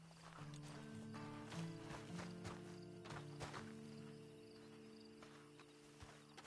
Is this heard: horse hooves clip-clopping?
yes